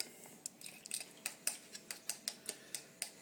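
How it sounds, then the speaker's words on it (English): A utensil works cold butter for garlic bread in a bowl, giving quiet, close metallic clicks and scrapes in a steady rhythm of about a dozen light taps, with no talking. "Now you just want to mix this butter in here."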